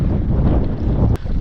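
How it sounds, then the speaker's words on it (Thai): Strong wind roars steadily at a riverside forest camp where a father and son are camping and grilling fish, with broad gusty buffeting against the microphone and a brief dip near the end. "ลมแรงครับทุกคน"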